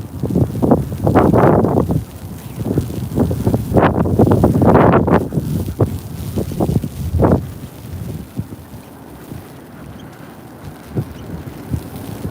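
Strong wind sweeps through a New York City snowstorm, roaring and buffeting the microphone in loud gusts that rise and fall, then ease to a lower steady rush.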